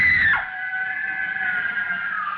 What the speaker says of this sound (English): The girl, screaming with rage,